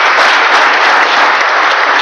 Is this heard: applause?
yes